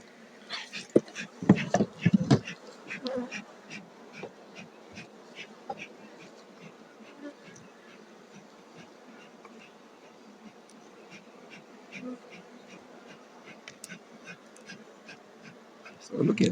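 Bees buzzing around an opened beehive during a daytime honey harvest in Zimbabwe, a steady insect drone with handling knocks and clatter early and at the end.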